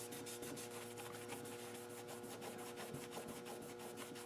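Scrubbing grime off the cylinder heads of a GM 4.3L engine, a steady close rubbing and brushing texture with repeated strokes running continuously at low level, with no voices.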